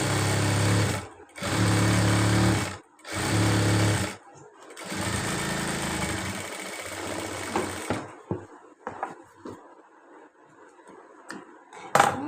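A sewing machine stitches fabric in tailoring work, running in three short loud bursts, then a longer run, before stopping to quiet handling clicks.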